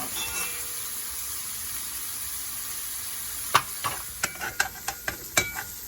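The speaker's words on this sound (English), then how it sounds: "So I'm going to let this fry up for a little bit so that the onions can turn translucent." Onions frying in oil in a pan, a faint continuous hiss at first, then a quick run of sharp stirring taps and scrapes toward the end.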